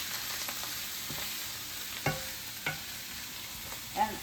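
Minced garlic and oregano cooking in a pan for a chicken and vegetable casserole, a steady low sizzle with a few soft stirring scrapes and light clinks, quiet and close, with no talking.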